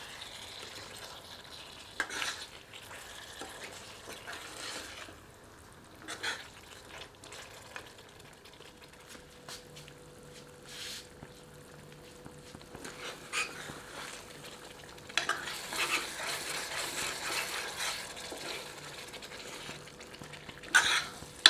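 Chicken pieces sauté over medium heat for a curry, stirred in the pot with a soft, steady sizzle and intermittent ladle scrapes and clinks, all fairly faint.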